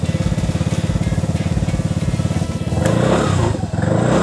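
Vespa Primavera scooter with a 150cc single-cylinder engine and performance exhaust idling up close with a fast, even putter, then revving up into a louder, rougher drone before settling back.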